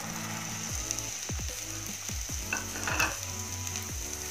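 Chickpeas tipped into masala frying in oil, giving a bright, steady sizzle with stirring and a rattling, ratchet-like scrape, close and with no talk.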